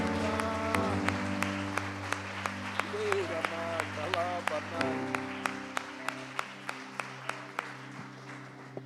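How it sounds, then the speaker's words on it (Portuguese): A church congregation claps along in rhythm, a sustained applause bed with regular sharp beats over steady organ-like tones, with a voice singing or speaking partway through. "Você pode aplaudir a Jesus mais uma vez."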